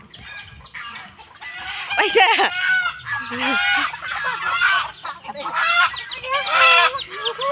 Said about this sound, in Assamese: মুৰ্গীটোৱে দাউৰি গ'ল।